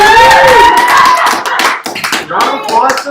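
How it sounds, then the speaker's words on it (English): A short round of hand claps at an indoor seed-launch party, sharp close claps running under loud, excited talking. "round of applause to our mail lady"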